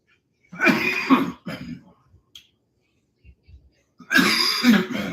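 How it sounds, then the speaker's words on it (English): Two short dry coughs, separated by a pause with faint small rustles, close and fairly loud. "And it's dry coughs too."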